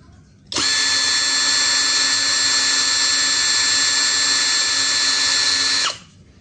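A Dongcheng 2040i cordless drill spins at speed setting 1, giving a loud, steady motor whine that starts abruptly, holds even for about five seconds, then winds down, with no talking.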